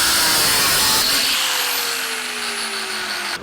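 A loud, steady power tool whine grinds on, its pitch sliding slowly downward as it cuts off a bolt on a 1949 Chevrolet frame, then cuts out abruptly near the end.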